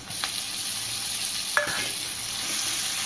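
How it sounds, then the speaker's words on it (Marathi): Green chili paste with garlic being stir-fried in a pan for a rice flour snack, a steady close sizzle broken by a few sharp scrapes of the spoon, with no talking. "हिरवी मिरचीचं वाटण काही सेकंदासाठीच परतून घ्यायचं आहे"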